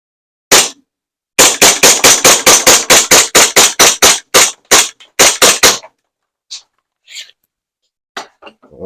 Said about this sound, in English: I'm gonna see how many magazines I can empty before it needs gas again